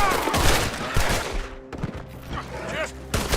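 Rapid bursts of gunfire crack out during a stagecoach shootout in the Red Dead Redemption 2 video game, loud and close, with thuds and a voice speaking between shots.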